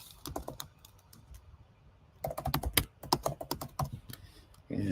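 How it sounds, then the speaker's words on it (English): Fast typing on a computer keyboard close up, a sparse patter of keystrokes that swells into a dense, loud burst of rapid clicks before a short pause. "let's just type Anna Brown Maynard"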